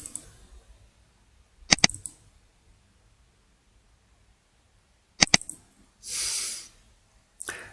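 Computer mouse clicking in quick pairs, two crisp double clicks separated by quiet pauses, close and sharp, with a short breathy hiss near the end.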